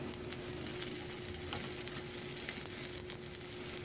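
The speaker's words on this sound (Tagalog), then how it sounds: "At igisa ko na rin yung luya at bawang." Ginger, garlic and onion sautéing in oil in a pan, giving a continuous moderate sizzle with a few soft stirring scrapes and no talking.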